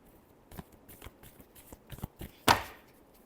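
Tarot cards are shuffled by hand in a series of soft, close riffles and taps, ending in one louder, sharper snap of the deck.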